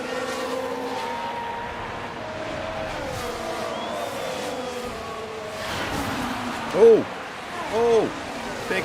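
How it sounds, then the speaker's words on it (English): Formula 1 cars crash in the F1 Manager racing game, with Lawson and Hulkenberg colliding: steady engine drone of cars on track, then two short, loud tire squeals near the end, with commentary voices talking over it. "Oh, big shunt. Lawson and Hulkenberg."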